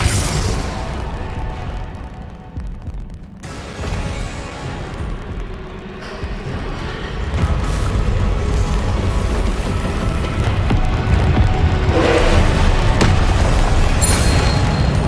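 A Confringo spell explodes in Hogwarts Legacy, with a loud, booming rumble that drops briefly and then builds into a sustained, dense roar of blasts and crashes.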